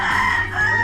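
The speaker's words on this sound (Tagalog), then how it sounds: "Ay, manok oh." A rooster or chicken calls out at close range in a brief, loud, tonal squawk.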